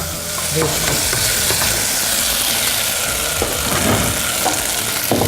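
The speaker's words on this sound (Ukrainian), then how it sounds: "Прогріваємо його, щоб масло розтопилося." Butter melting in a heated pan while preparing salmon, giving a steady broadband sizzle with scattered crackles and faint clinks, close and continuous with no talk.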